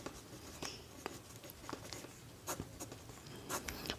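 Pen or marker writing out a Class 10 NCERT maths solution: soft scratchy strokes and occasional taps close by, steady and quiet against faint room noise.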